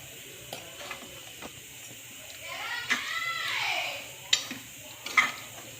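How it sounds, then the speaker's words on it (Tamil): A spoon stirs chicken gravy with coriander in a pan, giving close scraping sweeps and clicks against the metal over a soft background sizzle. "கொத்தமல்லி போட்டு கலக்கிட்டால் வேலை முடிஞ்சு போச்சு"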